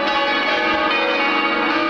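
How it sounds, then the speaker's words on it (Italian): Church bells ring continuously in Romania for Orthodox Easter, their overlapping tones blending into a steady, loud metallic clang with no voices. "suonano le campane"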